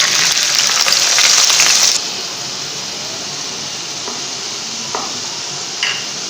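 Ground onion paste hits hot oil for a beef kofta: a loud, bright hiss for about two seconds settles into a steadier, quieter sizzle, with a couple of faint utensil taps.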